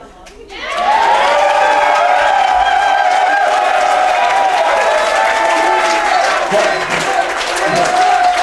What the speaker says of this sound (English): hold your applause for a moment